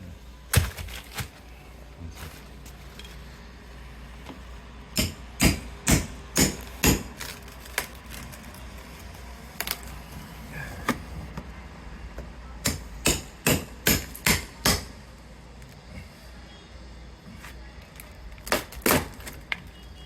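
Sharp hammer blows ring out during a sash window repair in quick bursts of several strikes, with pauses between groups, over a low background hum.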